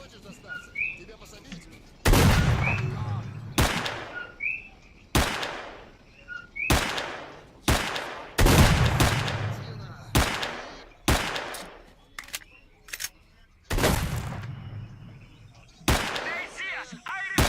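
Repeated gunshots from weapons in the video game S.T.A.L.K.E.R.: Clear Sky, loud sharp blasts in irregular bursts of single and rapid fire, with short quieter gaps and faint ambient chirps between them.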